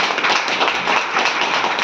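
Dense, steady applause from an indoor audience of many people, loud and continuous across the whole moment with no voices on top.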